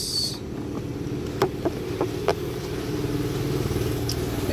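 Ronix 1.8 hp, 25-litre, 8-bar air compressor running with a steady motor drone and pulsing rumble, a few sharp clicks or taps partway through, no talking.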